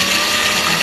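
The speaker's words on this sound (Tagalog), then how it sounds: "ginagrind na natin sa ating blender" A blender grinding cacao beans, a loud, continuous high-pitched whir and rattle close up, steady throughout with no talking.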